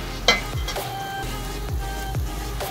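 Minced garlic sizzles steadily in a pan over medium-low heat, a soft continuous frying hiss with a few faint clicks and taps of utensils, no talking.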